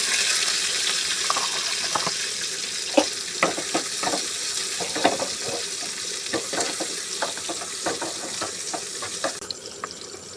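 Chopped garlic fries in hot oil with dried chillies for a dal tempering. A steady, fairly quiet sizzle runs throughout, broken by scattered clicks and scrapes from stirring.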